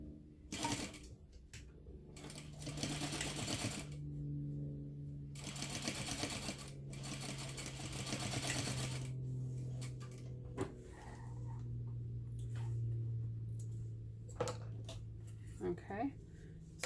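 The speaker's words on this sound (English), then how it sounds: "I am going to sew that using a 1/4 inch seam allowance." A sewing machine stitches the short edges of a fabric clutch bag with a quarter-inch seam, running in several steady bursts of rapid mechanical clatter with brief pauses between runs, close and clear.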